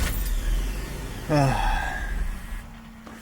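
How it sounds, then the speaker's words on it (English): A Nissan 300ZX engine bogs down and struggles to idle, giving a low, uneven rumble close by, broken midway by a brief spoken exclamation. "Oh, it bogs down. It bogs down."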